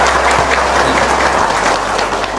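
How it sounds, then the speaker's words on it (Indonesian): Audience applause from a crowd at an Islamic sermon, a dense, steady clatter of many hands clapping close and loud throughout, with no voices over it. "Kurang semangat tepuk tangannya."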